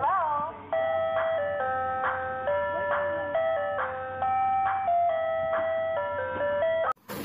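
Toy ice cream truck playing its tinny electronic jingle, a repeating melody of bright beeping notes heard close and steady for several seconds before cutting off abruptly.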